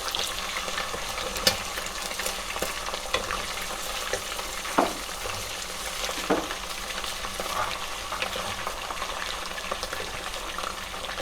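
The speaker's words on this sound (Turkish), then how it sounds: "kesinlikle yüksek derecede kavuruyoruz eti kırmızı olması için" Meat for Uzbek pilaf fries over high heat in a steady, dense sizzle, with occasional scraping stirs and clinks close by.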